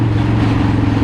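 A 1996 Harley-Davidson FLSTF motorcycle cruises on a highway, its engine a loud, steady low rumble with continuous road and wind roar, close and unbroken for about a second.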